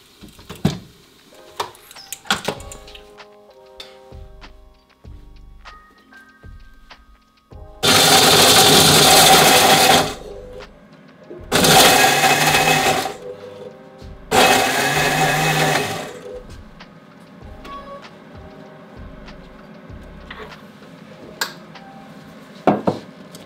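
Fritsch PULVERISETTE 11 knife mill grinding organic material cooled with liquid nitrogen, three loud whirring bursts of a few seconds each, with quieter clinks and handling clatter around them.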